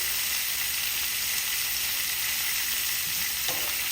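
Plant-based butter sizzles in a hot pan with an even, bright crackling hiss, close and steady, a single soft clink near the end.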